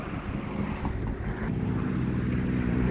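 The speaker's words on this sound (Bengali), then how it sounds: "এইগুলো সব মাছ ধরার ট্রলারগুলো এই নদীতে প্রচুর পরিমাণ মাছ আছে এই নদীতে" Fishing trawler boats on a river give off a low, steady engine rumble with broadband wind and water noise, continuous and moderately near, with no talking.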